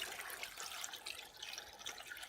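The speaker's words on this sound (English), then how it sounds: "Then I am going to add water" Water is poured into a cooking pot for seafood chowder, a steady, faint splashing stream that runs evenly throughout with no speech.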